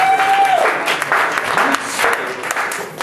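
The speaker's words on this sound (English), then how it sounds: "A little applause for this." Audience applause in a lecture hall during a physics demonstration of vertical circular motion with a cup of water, steady clapping filling the whole moment, fairly close and loud.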